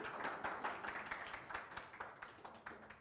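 A congregation at a Nepali church message claps in a quiet, distant round of applause, many hands patting in a fairly even rhythm that slowly thins out.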